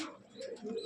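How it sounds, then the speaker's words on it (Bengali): Giribaz pigeons in a loft at Park Circus give a soft, low cooing that is brief and moderately close, with no one speaking over it. "এই দেখুন সুন্দর সুন্দর পায়রা"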